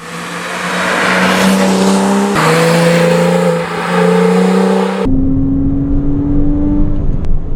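A mid-engine Porsche Cayman 987 2.9 engine drones steadily and loud on the road, pitch shifting with gear changes and a brief lift in revs before settling into a lower cruise.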